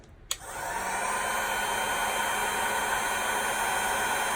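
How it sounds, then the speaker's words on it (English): Heat gun on low setting for making resin waves, switched on with a click and then a steady close airy whoosh that holds constant. "I'm going to get my heat gun on low"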